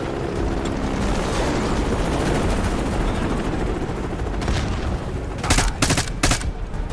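Gunfire in the Black Ops 6 campaign during a convoy assault, a dense rumbling mix of engine or helicopter noise with bursts of rapid shots clustering loudly near the end.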